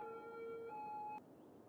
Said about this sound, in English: I have the sirens playing.